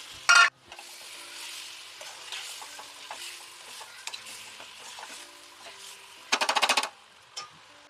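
Eggs frying in a pan with chili powder give a faint, steady sizzle, broken by a few sharp clatters of a utensil against the pan, one longer burst of rapid scraping, and a final tap.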